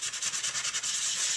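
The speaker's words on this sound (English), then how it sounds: "this sanding block is actually a nail tool that you can find at a local beauty store" Rapid circular strokes of a nail-tool sanding block against a paper faux metal jewelry piece, a close, hissy rubbing that pulses in quick rhythm, then smooths into a steady scrape.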